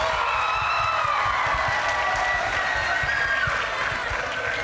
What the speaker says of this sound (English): big round of applause for Jason Evert